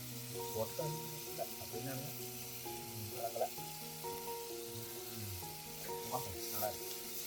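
Onion and curry leaves frying in a home kitchen pan make a steady sizzle, with stirring scrapes and clinks breaking in now and then and a voice speaking briefly over it.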